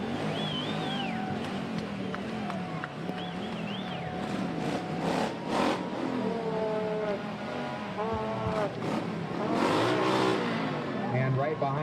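Motorcycles revving and rumbling past in the Nevada City Mardi Gras parade, engine surges rising and falling while a voice talks over the noise.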